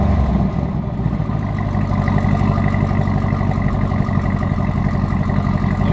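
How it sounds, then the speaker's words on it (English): A Camaro SS with its stock exhaust and a secondary cat delete idles steadily, a loud, deep, even rumble with a constant low throb and no revving. "This is the stock exhaust with secondary cat delete."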